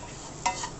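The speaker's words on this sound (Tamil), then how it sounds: "அதையும் இந்த மசாலாவையும் நல்லா ஒரு 2 மினிட்ஸ் ஃப்ரை பண்ணிக்கோங்க" Fried okra and masala sizzle in a pan, a faint, steady frying hiss with a brief scrape of stirring in the middle.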